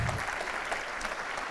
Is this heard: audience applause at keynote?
yes